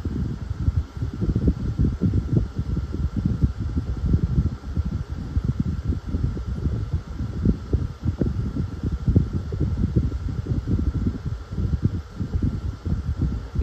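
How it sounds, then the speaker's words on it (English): A Dyson 12-inch silver and white desk fan and a Challenge 12-inch black desk fan run together on high, not oscillating. They give off a steady, fairly quiet whooshing rush of air with no other sounds. "The Dyson is quite powerful on high actually, it's competing with the Challenge, so about the same"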